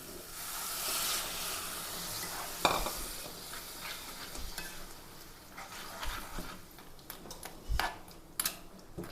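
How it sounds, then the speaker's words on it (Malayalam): Crab curry simmers in a pot after water is poured in, giving a soft continuous bubbling sizzle with occasional sharp stirring clinks and knocks, fairly faint and close. "നമുക്ക് ഞണ്ട് വേകാൻ ആവശ്യമായ ഒരല്പം വെള്ളവും കൂടി ഒഴിച്ച് കൊടുക്കണം."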